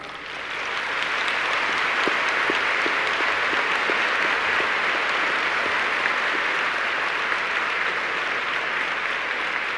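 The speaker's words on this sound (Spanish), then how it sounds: "Vamos a darle un aplauso." A church congregation applauds during Sunday Mass at a basilica, the clapping swelling in within the first second into a sustained, even roar of many hands that fills the room for nearly ten seconds without talk.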